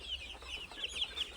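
Broiler chickens, fifty-two days old on a farm, give a quick run of soft, close clucks in a brief burst over a steady low hum.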